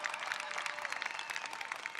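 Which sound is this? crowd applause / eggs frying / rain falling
crowd applause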